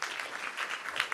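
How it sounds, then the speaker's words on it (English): Audience applause at a technology conference summit, a brief burst of steady clapping from a seated crowd, moderately quiet and without talk. "Another round of applause for Tom."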